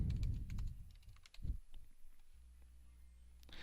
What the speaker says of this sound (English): I'll start by typing my title in the box.